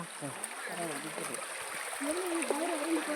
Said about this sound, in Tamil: இது ஒரு புண்ணிய நதி